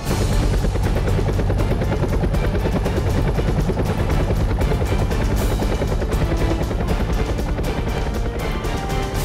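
Loud, continuous helicopter rotor noise during a navy training exercise casualty evacuation, with a fast rhythmic chopping throb that stays close and unbroken throughout.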